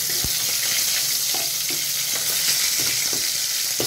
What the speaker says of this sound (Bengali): তো তেল গরম হয়ে গেছে, আমি এবার মাছগুলো ভেজে নিচ্ছি এক এক করে।